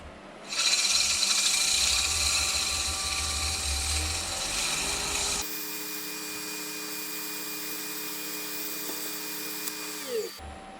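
Sanding the outside of a wooden bowl spinning on a lathe gives a steady, close whirring rasp that shifts to a quieter motor hum partway through as the tool spins down.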